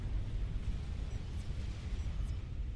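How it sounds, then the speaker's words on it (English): A low, sustained rumbling boom from an explosion in the strategy game Supreme Commander: Forged Alliance during a 4v4 match, heavy and continuous throughout with no talk. "I heard an explosion."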